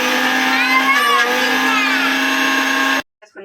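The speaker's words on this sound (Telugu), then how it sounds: "ఇప్పుడు అందులోనే ఈ కొత్తిమీర కూడా వేసి మిక్సీ పట్టేసుకుందామండి" A kitchen mixer grinder whirs loudly and steadily, blending fresh coriander into a chutney, the motor running continuously before cutting off abruptly, followed by brief faint sounds.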